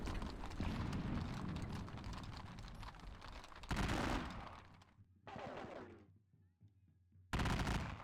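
Musket volleys from skirmishers in a Napoleonic strategy game, set during the Leipzig campaign: dense, rolling crackle of gunfire sustained for several seconds, then sharp bursts separated by brief quieter gaps.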